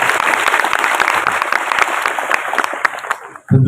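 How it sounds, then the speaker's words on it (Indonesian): Students at SMA Negeri 6 Bekasi, a high school in Bekasi, clap together in loud, dense, sustained applause that ends abruptly, followed by a voice starting to speak. "Tepuk buat kita bersama."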